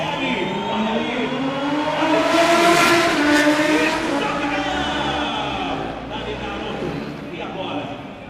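Honda superbike engine at an Interlagos stunt show, a loud sustained roar with rising and falling revs, heard under an excited announcer's commentary and crowd noise.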